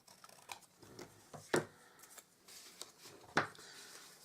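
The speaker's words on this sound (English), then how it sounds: "I'm just going to use one of these pieces here and I'm just going to cut it off." Paper or cardstock being cut for a large die-style novelty gift box, with two sharp, close snips standing out against a quiet room and a few softer rustles between them.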